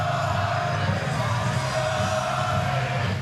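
Golf gallery crowd at a professional tournament's party hole, cheering and welcoming Queenslander Scott: a steady, dense roar of many voices held throughout, with scattered yells and whoops, moderately loud and unbroken.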